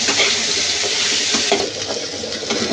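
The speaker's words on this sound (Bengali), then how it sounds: "আলুগুলো একটু ভেজে নেব ভালো করে।" Potatoes seasoned with salt and turmeric fry in oil with a steady, dense sizzle and some light stirring, loud and close.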